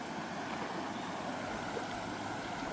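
Floodwater pours from the Muthaiyankattu reservoir after rain, a continuous broadband roar of rushing water, steady and unbroken, with wind buffeting the microphone and no voices.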